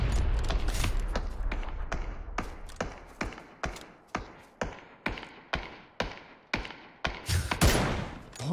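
Gunfire in PUBG rings out as a steady series of about fifteen sharp, evenly spaced single shots, moderately near, each followed by a short decaying echo.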